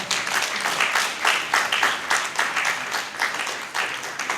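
An audience at a book launch claps for the author, a moderately full round of applause with a slightly uneven, pulsing texture that keeps going steadily.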